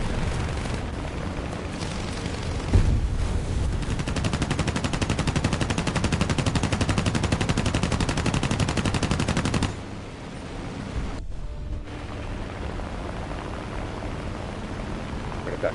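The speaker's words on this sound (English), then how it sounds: "Machine guns." Sustained machine gun fire in War Thunder, a dense rapid rattle roaring steadily for about ten seconds, then dropping to a quieter rumble of distant battle noise and engine drone.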